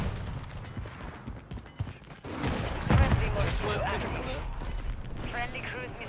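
Gunfire in Call of Duty Warzone, a few sharp shots and a short burst cutting through game effects and players talking over voice chat, moderately loud.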